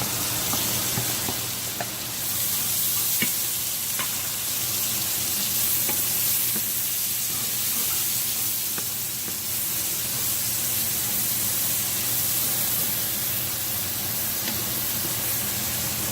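Chopped onions sizzling and frying in a pan for bacon fried cabbage, a steady hissing crackle with occasional faint stirring clicks, close and continuous throughout with no talking.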